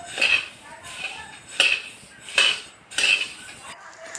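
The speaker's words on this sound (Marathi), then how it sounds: "धणे बारीक गॅसवरती चांगले खरपूस होईपर्यंत भाजून घेऊयात" Coriander seeds dry-roast over a low flame while a metal spoon scrapes and clinks against the pan in about five distinct, evenly spaced strokes, close and fairly loud, with quiet gaps between them.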